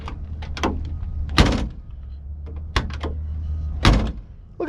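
Car doors on an MK4 Volkswagen at a pull-a-part salvage yard are opened and shut several times, giving a run of clunks and latch thuds with a few heavier slams over steady outdoor background.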